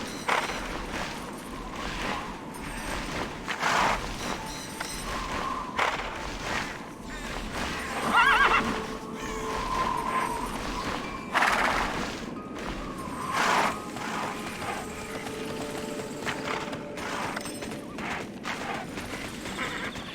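A horse in the video game Tera whinnies several times amid steady clip-clopping hooves, with game ambience and occasional clatter underneath throughout.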